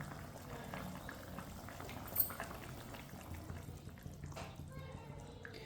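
Water boiling in a pot on the stove for matar chicken, a low, steady, faint bubbling and hiss that carries on throughout with no talking.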